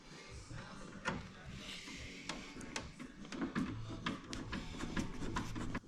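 Screws being driven into a double DIN radio install kit with metal frame backing for a 1982-84 Firebird, heard as irregular close clicks and ratcheting mechanical ticks over a few seconds.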